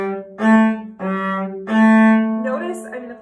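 Cello played in slow motion staccato, crossing strings with separate short bowed notes in a slow rhythm, close and clear, with a faint voice near the end.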